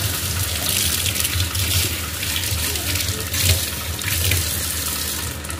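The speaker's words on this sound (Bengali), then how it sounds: "হাতটা ধুয়ে নিয়ে" Water runs steadily from a tap as hands are washed beneath it in a home kitchen during cooking, a continuous close splashing hiss with slight surges, no voices.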